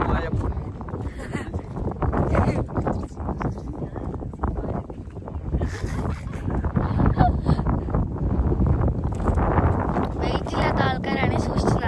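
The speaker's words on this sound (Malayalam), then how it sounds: "നല്ല കാറ്റായിട്ടുണ്ട്" Strong wind on the Ponmudi hilltop buffets the microphone in a constant, heavy roar, while people talk through it.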